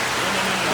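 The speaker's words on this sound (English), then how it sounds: "As you can see, it is raining." Steady rain pours outdoors at a truckers' protest in Dominica, making a dense, even hiss with no pauses over the whole moment.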